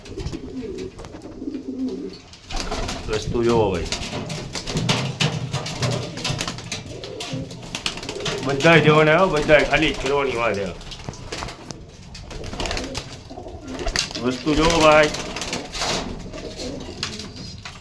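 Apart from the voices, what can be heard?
pigeons cooing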